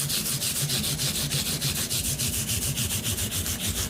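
Fine P800 grit sandpaper rubs across the frets of a Fender Telecaster in quick, even back-and-forth strokes, a close, steady scratchy rasp with no talking.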